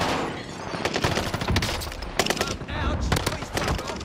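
Rapid automatic gunfire and bursts of shots in Call of Duty Vanguard Warzone on Rebirth Island, loud and continuous, with sharp cracks throughout and players talking over the shooting.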